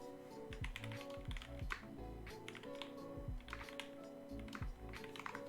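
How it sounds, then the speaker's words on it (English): Typing on a LEAF60 mechanical keyboard fitted with H1 switches with unwiped stems: a steady run of crisp, close keystrokes in quick uneven bursts, with no voices. "doing typing tests in front of people"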